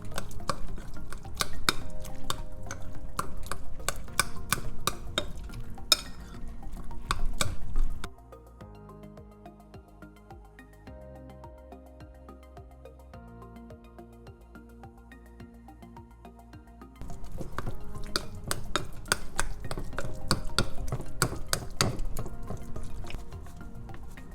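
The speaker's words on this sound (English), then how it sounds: "just mash it in with the bitterball or stir it in with the bitterball" Bitterball (bitter garden egg) being stirred and mashed into a pot of Liberian GB soup: loud, busy scraping and knocking against the pot, broken by a quieter stretch with music before the stirring resumes.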